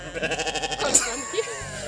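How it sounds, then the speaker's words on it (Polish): Sheep bleat in a quick, quavering run of pulses, followed by a brief sharper burst and a fainter cry, with a voice alongside. "Tak właśnie przywołam owce."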